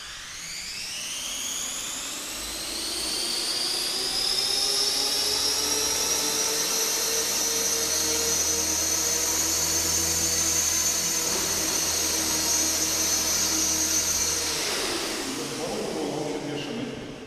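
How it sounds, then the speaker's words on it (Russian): A Rex 450 V2 radio-controlled model helicopter whines close by, its high electric motor and rotor pitch rising as it spools up, holding a loud steady tone, then dropping away near the end. "На вертолете."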